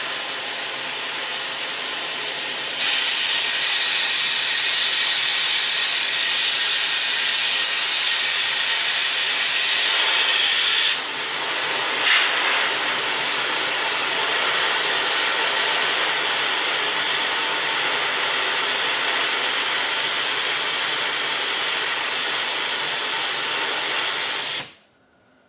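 A vacuum coolant filler tool on a Toyota Prius hisses loudly and steadily for over twenty seconds, the airy rush shifting in pitch partway through before cutting off abruptly.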